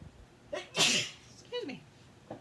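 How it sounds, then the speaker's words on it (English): A single sharp sneeze bursts out close to the microphone, with a short breathy intake before it and soft vocal sounds after. "I have to sneeze."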